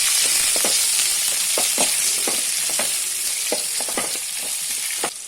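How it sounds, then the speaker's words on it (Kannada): Onions and garlic frying steadily in a pan, with a continuous broadband sizzle and repeated short stirring scrapes and clicks throughout, loud and close, no voices. "ಒಳ್ಳೆ ರೀತಿ ಫ್ರೈ ಆಗ್ತಾ ಬಂದಿದೆ"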